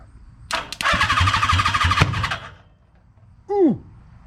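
A 1982 Kawasaki KZ550 motorcycle engine cranks and fires into a loud, rough burst of running for about two seconds, then cuts out; a brief whistling sweep follows near the end.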